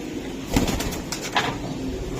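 Racing pigeons coo softly in a loft, with a few short throaty coos and a faint flutter over low background noise.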